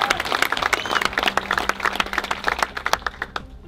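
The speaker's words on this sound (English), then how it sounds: "a round of applause for Aoife, Roisin," Wedding guests break into lively applause, with many sharp individual claps close and distinct at first, thinning slightly toward the end.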